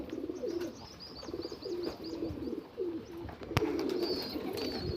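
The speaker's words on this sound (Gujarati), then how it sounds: "આપણે આગળ મિત્રો હવે ઘણા બધા કબૂતર થઈ ગયા છે," Many pigeons coo in repeated low throaty phrases, with faint chirps from young birds higher up and occasional sharp taps and flutters in a loft.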